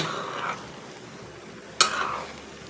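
Pancit bihon noodles with chicken and sausage are stirred in a pan: soft scraping and sizzling, a brief stir at the start, then a sharp utensil clack against the pan followed by more scraping.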